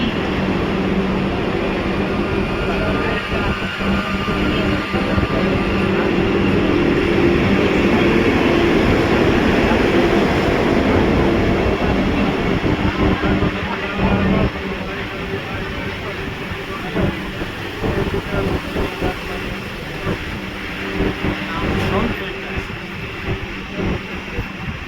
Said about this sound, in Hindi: छत्रपति शिवाजी महाराज टर्मिनस जाने वाली तेज लोकल थोड़े ही समय में प्लेटफॉर्म क्रमांक 7 पर आ रही है।